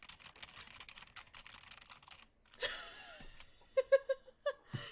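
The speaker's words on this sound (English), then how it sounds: "Even when I'm not typing, you can hear as I run my fingers all over the keyboard." Rapid, close-up clacking of computer keys in a quick flurry, then a pause followed by a few louder, separate key taps.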